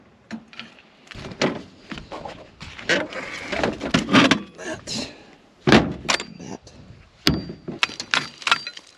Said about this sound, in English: Just knocking some of this mud off and ain't gonna pick them up.